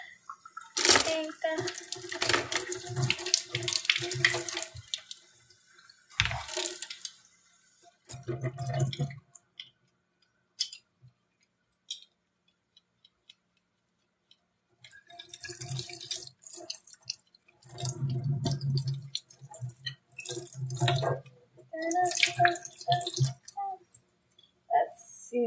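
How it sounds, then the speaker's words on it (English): Children's paint brushes being washed under a running tap, with bursts of splashing water and drips that stop and start, interrupted by a pause and heard alongside talking voices. "I'm gonna wash the kids' brushes for paint."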